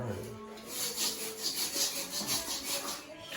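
Old vinyl flooring being scraped off a bathroom floor by hand, a run of close rhythmic rasping strokes, about a dozen in quick succession.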